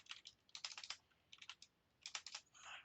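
Typing on a computer keyboard in quick bursts of clicking keystrokes separated by short pauses, close and quiet with no voice.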